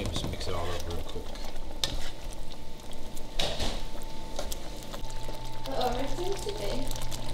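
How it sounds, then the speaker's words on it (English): Chicken afritada with its seasoning mix stirred in a pot, with scraping, stirring and light sizzling throughout and a voice briefly talking over it. "Maybe just mix it all up real quick."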